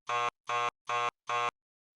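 Store security tag alarm in a Batman and Robin interactive moviebook game, four loud, evenly spaced buzzing beeps in quick succession, then silence.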